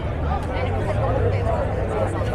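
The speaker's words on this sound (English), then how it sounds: "Look at this crowd." Dense crowd chatter at the Greek Day festival on Broadway in Vancouver's Kitsilano, with an even, continuous babble of many voices filling the street, nearby and steady throughout.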